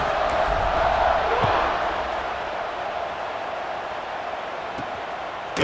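A large college football stadium crowd at Montana State versus Weber State roars steadily before a kickoff, a broad continuous wash of cheering and whooping that swells early and then eases slightly.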